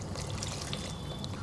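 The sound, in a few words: water being poured into chicken curry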